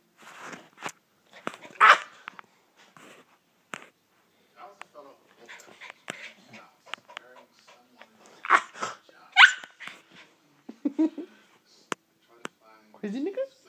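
A puppy yips and barks in short bursts while playing, between scuffling, panting and clicks, with voices talking intermittently.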